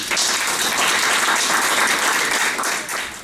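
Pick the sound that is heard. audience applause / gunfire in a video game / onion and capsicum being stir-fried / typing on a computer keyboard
audience applause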